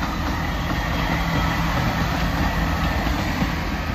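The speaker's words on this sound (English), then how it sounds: "So, nice locomotive." A heritage railway train on the Welsh Highland Railway rumbles past at steady volume, its broad continuous roar and faint wheel clatter holding without a break from start to finish.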